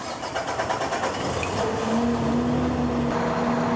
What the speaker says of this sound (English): You're going to hit engine start,